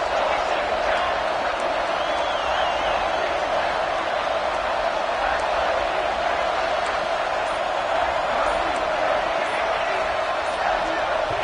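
Steady roaring stadium crowd in a college football video game, a constant wash of cheering and noise, with commentary voices running over it throughout.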